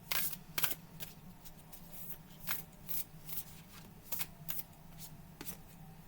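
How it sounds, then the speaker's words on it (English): A stiff, nearly new deck of oracle cards is shuffled by hand, giving quiet, crisp riffling snaps at irregular intervals over a low background hum, with no speech. "These cards are still like brand new. They're a little hard to shuffle."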